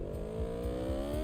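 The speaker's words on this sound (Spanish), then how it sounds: "Pero antes vamos a escuchar la moto de serie." Stock motorcycle in the Ride 5 racing game on the Almería circuit, engine holding a steady buzzing drone with rising harmonics, a continuous close revving whir without any voices.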